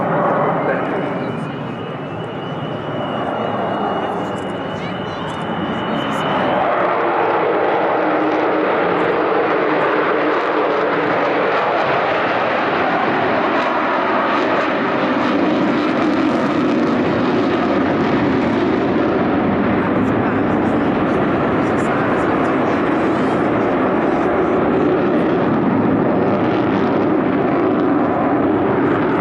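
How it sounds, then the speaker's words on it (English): Four Rolls-Royce Bristol Olympus jet engines of an Avro Vulcan B2 bomber roar continuously at an air festival, a deep, sustained thunder with a rising whine early on, loud and close throughout. "That's the sound of 4 Rolls-Royce Bristol Olympus engines."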